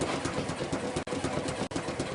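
Motor driving a shaking table runs with a steady mechanical hum and rapid rhythmic pulsing, broken by two brief dropouts, moderately loud with no speech.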